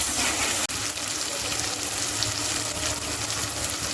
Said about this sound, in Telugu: ఓకే, గోల్డెన్ కలర్ వచ్చేదాకా ఫ్రై చేయాలి ఆనియన్స్ని.